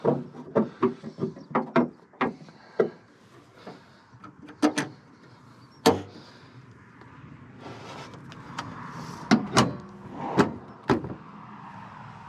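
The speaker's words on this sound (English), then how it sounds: "Let me just shut my bonnet." The bonnet of a Mark II car is handled and shut in an engine bay, heard as a series of sharp metallic knocks and clunks, then a louder slam and a few further thuds.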